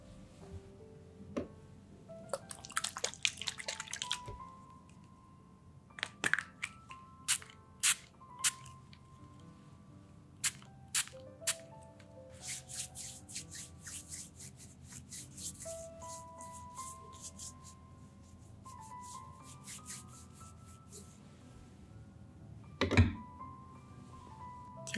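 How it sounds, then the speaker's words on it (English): Disinfectant sprayed and rubbed over hands during a close-up skincare session, soft hissing spritzes followed by quiet, intimate friction and squishing sounds. "First, I will disinfect my hands."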